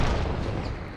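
A grenade explodes in a video game, heard as a loud, boomy burst blended into continuous battle noise, with gunfire rumbling throughout the short moment.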